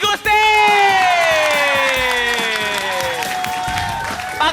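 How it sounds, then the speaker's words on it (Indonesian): A television studio audience claps and cheers on a morning variety show while music with sliding tones plays loudly over it. "kita belum kasih tepuk tangan yang meriah untuk Ji Gusti"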